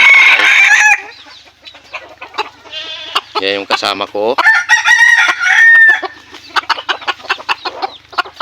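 Hens cluck repeatedly and a rooster crows nearby, with a person briefly talking over the farmyard calls.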